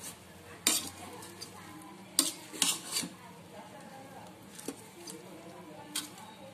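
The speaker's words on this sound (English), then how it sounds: "We have to mix all the rice" Cooked bagara rice is stirred in a pot with a metal spoon, giving soft clinks and scrapes at irregular intervals, close and fairly quiet.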